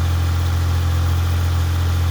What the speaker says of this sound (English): It's idling a little high, and it always does that for the first few moments, and then it drops down in RPMs.